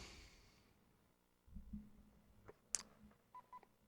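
A telephone is dialed by hand, with a quiet run of separate clicks and short electronic tones coming in irregular bursts over a faint room background and no voices.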